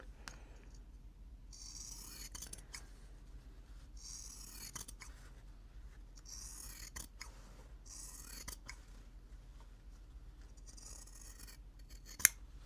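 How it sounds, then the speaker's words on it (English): Scissors snip through quilt fabric along a marked line for a pinwheel quilt block, a steady run of quiet, close crisp cuts with a sharper click near the end. "as long as you're cutting on the line or as close as you can to the line"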